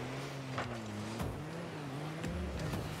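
A teammate's car in the Rocket League video game drives close behind, its engine a steady droning hum that dips and rises in pitch as it accelerates, with a few brief sharper bursts over the top.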